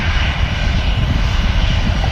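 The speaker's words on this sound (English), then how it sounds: "Probably got another Jet2 757 coming in." A Jet2 Boeing 757 arriving at Manchester Airport, heard as a loud, steady engine roar with a broad rushing hiss, continuous throughout with no voices.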